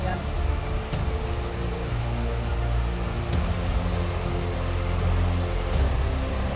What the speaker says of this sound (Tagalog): Lakas ng tubig guys, oh, rumaragasak.